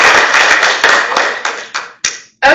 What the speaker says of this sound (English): So we owe a round of applause to ourselves.